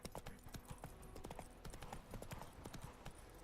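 Horse hooves clip-clop at a steady trotting rhythm in The Witcher 3, loud and close, with faint ambient game sound underneath.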